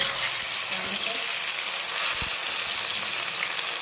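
Mustard seeds and a little cumin sizzle and crackle steadily in hot oil on a lowered gas flame, a dense close frying hiss with a few small pops, no talking over it.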